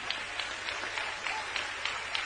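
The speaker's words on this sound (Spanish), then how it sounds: "denle un aplauso precioso al Señor" A church congregation claps steadily in warm applause during a service, a continuous even wash of many hands heard from a distance with soft rhythmic swells throughout.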